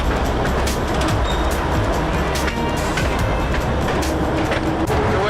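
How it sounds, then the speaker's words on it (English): Russian diesel locomotive at a Vietnamese steel factory rumbles loudly and continuously from up close, a heavy engine drone mixed with rattling and clanking of the cab and rails. "I'm jumping on this Russian locomotive with Mr. Vin, who's doing the rounds of the factory."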